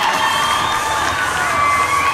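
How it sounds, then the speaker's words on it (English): Crowd at a Watertown Wolves ice hockey game cheering and applauding as a player heads off, a steady, dense roar of shouts and clapping filling the arena with no break. "He will head off to a huge applause here."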